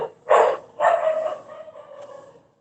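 A small dog or puppy gives two quick yelping barks followed by a fading whimper, close and moderately loud, with no voices.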